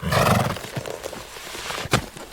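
A horse neighs loudly up close in a radio drama, followed by a short quieter stretch and a sharp thump, with no talking.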